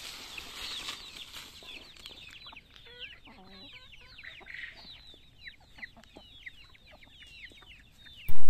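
A flock of farm chickens clucks and chirps busily at close range, with many overlapping short calls. A loud thump comes right at the end.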